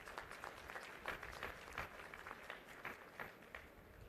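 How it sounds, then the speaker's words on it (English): Faint, distant crowd applause at a college graduation and awards ceremony, a continuous wash of clapping with a few sharper claps, heard at low level in a reverberant hall. "So a big round of applause to all of you"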